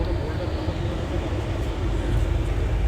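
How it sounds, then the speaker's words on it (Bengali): A train pulling out of Sealdah station gives a steady, dense rumble heard from on board, with faint voices mixed into the noise. "এই যে আমাদের ট্রেন অলরেডি শিয়ালদা ছেড়ে বেরিয়ে যাচ্ছে"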